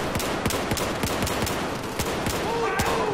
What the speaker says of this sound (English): the FAMAS is a very fast rate of fire.